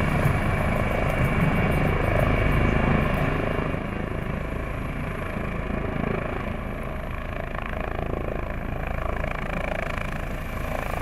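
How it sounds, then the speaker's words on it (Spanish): Two Guardia Civil air service helicopters drone steadily overhead during a security operation at the 2015 Rocío pilgrimage, rotor chop and engine roar filling the whole stretch with no voices. "desplegando en la zona dos helicópteros del servicio aéreo"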